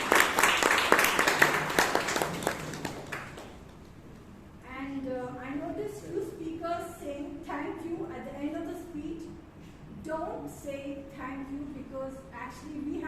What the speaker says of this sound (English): can we have a big round of applause for Mrs. Chetan?